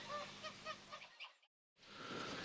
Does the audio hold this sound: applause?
no